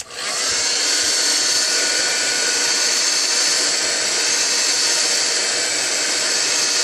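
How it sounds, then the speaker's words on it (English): Old Sears Craftsman heat gun running on its low setting: a steady, loud, close blowing whir like a hair dryer that starts abruptly and holds constant, no talk. "A very simple old-fashioned Sears Craftsman heat gun."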